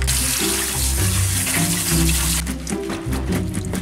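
Kitchen tap water runs steadily into a sink while strawberries are washed, a close, continuous splashing rush with no talking.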